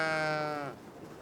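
A sheep bleats once in a close, loud, wavering call that fades after about two-thirds of a second into quiet outdoor ambience.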